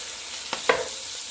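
Spareribs, bacon and cabbage being stirred in a hot pan, a soft continuous sizzle with two quick scraping clatters of a utensil in the middle, close by and without talk.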